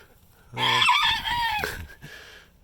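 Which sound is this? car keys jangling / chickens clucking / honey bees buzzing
chickens clucking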